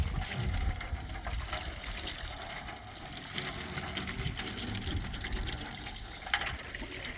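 Dirty liquid poured out of a container outdoors onto muddy ground, making a steady gushing, splashing stream throughout, with a single sharp knock near the end.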